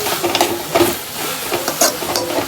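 Food is stirred and fried in a pan, with irregular scraping and clinking strokes over a soft sizzle, close by.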